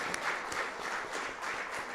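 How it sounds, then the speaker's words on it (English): An audience at a conference event gives a round of applause, a dense, steady patter of many hands clapping at moderate distance with no voices. "So if you could give them a round of applause."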